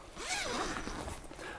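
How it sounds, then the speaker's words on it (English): A zipper on the bug screen of a 2021 Winnebago Revel camper van is pulled down in one smooth, close, rasping stroke lasting over a second. "I'm going to zip those down as we go."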